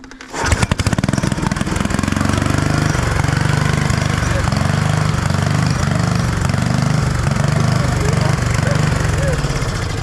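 A homemade monster lawn mower engine cranks and catches, then runs loud and steady with a rough, throbbing idle close by, while voices talk over it.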